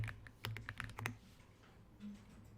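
Keys clatter on a computer keyboard as a word is typed into an Excel spreadsheet cell during a beginner computer class: a quick run of close, crisp keystrokes, then a pause.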